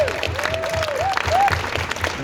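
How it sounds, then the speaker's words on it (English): Applause at a LEGO building competition for the participants, with a steady wash of clapping throughout and a few rising and falling whistle-like tones sweeping over it. "also a big round of applause to all the other participants"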